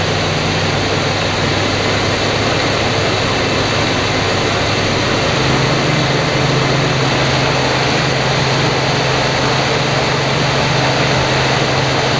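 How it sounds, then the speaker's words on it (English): A 1966 Ford Galaxie 500 engine runs at fast idle, a loud, steady, close drone with a low hum that shifts slightly in pitch partway through. "I'm going to put it up on the fastest idle and see what it does."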